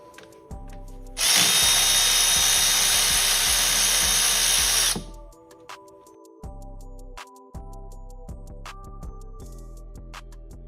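A power drill with a 10mm socket backs bolts out of a golf cart motor at the rear end, with one long loud whir of about four seconds and then short tool sounds and clunks close by.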